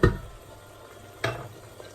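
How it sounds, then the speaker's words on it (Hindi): Onion with ginger and garlic browns in a hot pan for a chana dal tarka, giving a soft continuous sizzle broken by two sharp stirring scrapes about a second apart. "और अब इस प्याज को अदरक लहसुन के साथ अच्छी तरह से भुनेंगे कि ये ब्राउन हो जाए"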